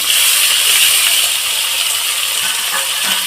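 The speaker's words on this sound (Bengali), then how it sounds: "আমার তেলটা গরম হয়ে গেছে এর মধ্যে এই ইলিশ মাছগুলো আমি দিয়ে দিচ্ছি" Hilsa fish pieces dropped into hot oil, giving a steady close sizzling hiss with faint crackles throughout and no talking.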